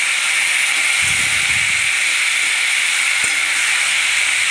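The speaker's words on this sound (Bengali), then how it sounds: "আলু কলা সব একসঙ্গে দিয়ে ভালো করে ভেজে নেব" Salted, turmeric-coated potato and banana pieces frying together in hot oil, a loud, constant hissing sizzle that fills the whole stretch, with a couple of faint low knocks from the pan underneath.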